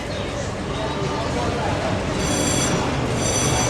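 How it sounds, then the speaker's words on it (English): An amusement-park train pulls in on a boardwalk: a loud, steady rumble of rolling wheels fills the whole stretch, with high squealing tones joining toward the end. "Oh, here comes the train."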